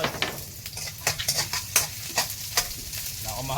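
Onion sizzles and fries in a pan for sautéed bitter melon with egg, while a utensil stirs it in short scraping bursts, close and steady with no talking.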